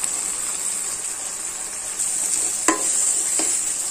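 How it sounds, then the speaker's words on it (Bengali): Tomato cooking with chatpati masala in a pan gives a steady, close sizzling hiss, with a couple of brief spoon scrapes near the end and no voices. "চটপটি মশলাটা দিয়ে একটু কষিয়ে নেব"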